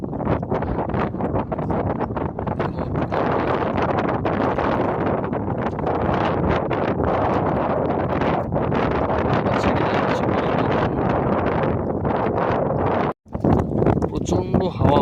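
Strong wind blowing over open water while out fishing, a loud, constant roaring rush buffeting the microphone throughout, with one brief dropout near the end.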